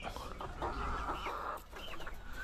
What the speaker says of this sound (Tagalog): Nandiyan na yung mga naligong mga manok